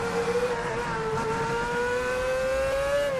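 A Formula 1 F2007 car in the Assetto Corsa racing game screams at high revs down a long straight, its engine note steady and rising slightly, loud and close with no talk.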